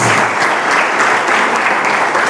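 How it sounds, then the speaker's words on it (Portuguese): A church congregation applauds in unison during a service, dense and loud clapping filling the space without pause. "Aplauda o Senhor Jesus."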